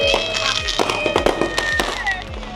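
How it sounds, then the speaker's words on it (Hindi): Firecrackers and fireworks going off at a New Year celebration: a rapid, dense run of sharp pops and bangs with whistling streaks, loud and close, while people talk and shout in the background. "पटाखे फट रहे हैं"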